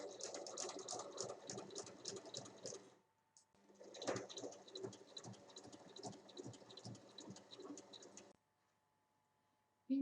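A sewing machine stitches fabric pieces in two runs of rapid, even mechanical clatter, close and quiet, broken by a short pause and then stopping near the end.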